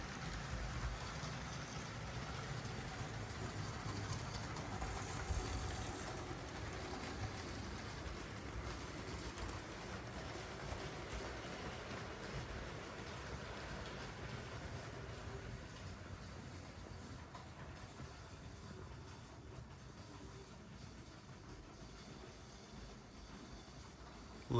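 A LEGO toy train rattles and clicks continuously along its track, a faint, even rumble with no voices.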